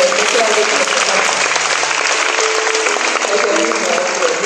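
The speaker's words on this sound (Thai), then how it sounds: "เราปรบมือมีความเป็นพระเจ้าด้วยกันนะ" A church congregation applauds together in dense, sustained clapping that keeps a steady level throughout and fills the room. Faint voices can be heard beneath it.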